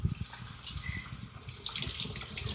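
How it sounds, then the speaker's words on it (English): Rainwater pours steadily into a rain catch barrel on an off-grid homestead, a continuous splashing gush heard up close with no talk. "Look at that water going in that barrel."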